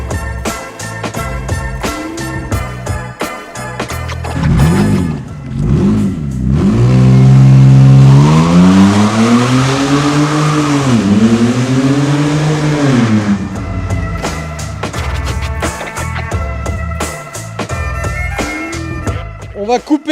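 A Renault Espace IV with a 3.5 litre V6 of about 250 hp, being turned into a race car, revs loud and close. The engine note sweeps up and down several times, with a sustained high rev in the middle.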